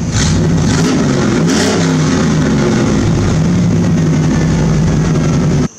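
A V8 engine (LT1 in a Chevrolet S10) with open exhaust rumbles steadily with deep, throaty exhaust, rising briefly in a rev near the start before settling into a sustained idle roar.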